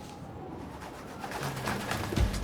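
Pigeons cooing in the video game Marvel's Spider-Man: Miles Morales, a soft low coo rising near the end over a steady ambient game backdrop, with no talking.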